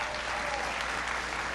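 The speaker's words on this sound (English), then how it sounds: "Give them a big round of applause." Audience applause for a group of young people at a presidential event, a steady, dense wash of clapping that holds evenly across the moment with no pauses.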